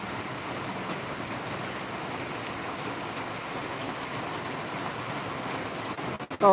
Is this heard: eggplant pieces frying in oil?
no